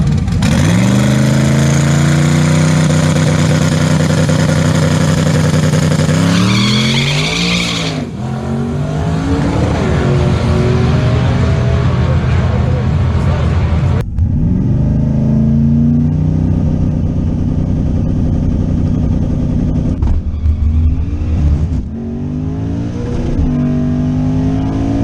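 A twin-turbo third-generation Camaro launches on a drag strip with boost control on, its engine roaring loudly and climbing through repeated gear changes, close and dominant across a long run with no voices.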